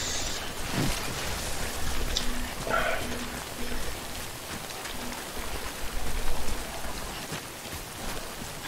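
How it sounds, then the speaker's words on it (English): Steady rainfall in the video game Death Stranding patters continuously at a moderate level, with a faint low hum and a few brief incidental sounds layered over it. "So the rainfall damages the cargo containers."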